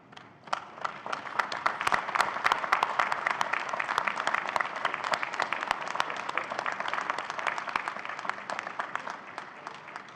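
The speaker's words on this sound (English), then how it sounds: "give them a warm round of applause for supporting your journey" Sustained applause from a large convocation audience in a hall, many hands clapping densely and evenly for about ten seconds, swelling at the start and holding steady.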